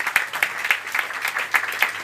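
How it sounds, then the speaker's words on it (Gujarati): At a lamp-lighting and prayer ceremony, a small gathering claps in a fairly even rhythm, with distinct, moderately loud hand claps repeating several times a second over a quiet background. "જોરદાર તાળીઓથી બિરદાવીએ."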